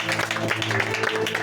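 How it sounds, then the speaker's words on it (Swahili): A church congregation claps for Jesus during a sermon, with rapid, crowded clapping running throughout over a tonal hum of music or voices. "Pigia Yesu makofi."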